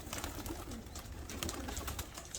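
Racing pigeons coo softly in a loft, low throaty murmurs overlapping with light flutters and scuffles, fairly faint and close, no talking.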